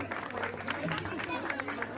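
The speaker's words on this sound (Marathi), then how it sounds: "टाळ्या वाजवा सगळे जरा" A crowd applauding at a children's lemon and spoon race prize announcement, a steady patter of many hands clapping from a moderate distance, mixed with background chatter.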